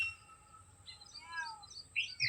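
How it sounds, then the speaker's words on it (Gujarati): Birds chirp outdoors in a quiet rural setting, a few bright short calls and tweets rising near the end, fairly faint and alone. "પશુ પંખી જો કિલોલ કરે છે"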